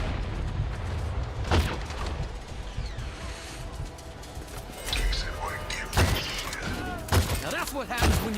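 Bursts of video game shooter gunfire crack out in scattered volleys, sharp impacts spiking over a constant busy din of battle noise, with a person talking over the action.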